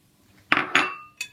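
Salmon rillettes are stirred with five kinds of berries in a bowl, a spoon striking the dish in two bright clinks close together, then a third lighter clink a moment later, heard close and alone.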